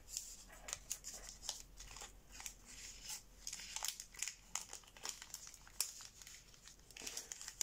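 Origami paper is folded and pressed flat while making a bald eagle model, giving soft, close crinkles and sharp creasing rustles in irregular bursts, with no talking.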